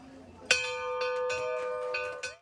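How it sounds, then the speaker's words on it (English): A bell rung at a rehabilitation institute to celebrate a patient leaving inpatient care, struck sharply and then repeatedly, its bright ringing tone sustaining and layering over soft background voices. "Calloway got to ring BHRI's bell with purpose when she'd recovered enough to leave inpatient care"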